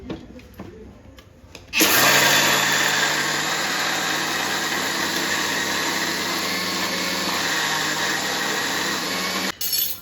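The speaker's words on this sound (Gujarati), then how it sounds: "હવે આ દાળ ચોખાને હવે પીસી લઈશું મિક્સરમાં" After a few quiet seconds, a mixer grinder starts up and whirs loudly and steadily for several seconds as it grinds lentils and rice, then stops abruptly.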